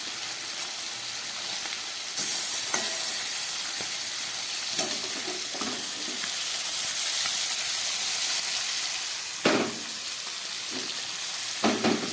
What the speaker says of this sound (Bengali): এবারে এই তেলের মধ্যে আমি মাছগুলোকে ভেজে নিচ্ছি।